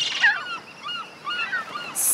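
Seagulls calling in a cartoon beach scene where a baby sea turtle has hatched, a run of several squawking, honking cries in close succession, fairly loud and near, with no talk over them.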